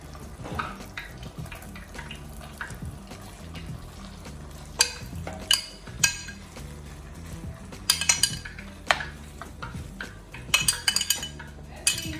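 Crab and minced garlic cooking in melting butter in a pan, a steady soft sizzle with a low hum beneath, broken by occasional clinks and scrapes of a utensil, no talk.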